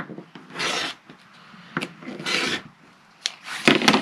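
A rotary cutter trims a quilt fabric block along a ruler on a cutting mat, giving several short rasping strokes with quiet pauses and small handling knocks between them, no voices.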